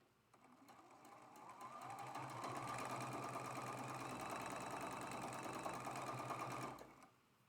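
A sewing machine runs continuously while stitching a quilt block, a steady close whir with a low motor hum that starts, holds for several seconds, then stops.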